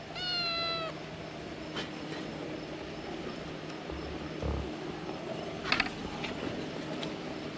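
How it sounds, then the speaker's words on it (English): A single short cat meow near the start, followed by quiet ambient noise with a low rumble and a few faint clicks. "I don't know what you want, cat."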